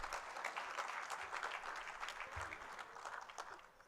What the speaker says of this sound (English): So I would like to have a round of applause for the mother in this hall.